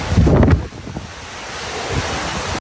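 Ocean surf crashes close by at the shore, a loud rush of breaking waves at the start that settles into a steady wash, with wind buffeting the microphone throughout.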